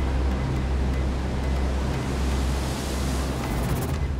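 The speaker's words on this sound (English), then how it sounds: "it almost felt like it was moving the house because of the crashing of the waves" Six-metre ocean swell pounds against a solid seaside house at the back door, a dense, continuous roar of crashing surf and churning water, loud and close with no talk.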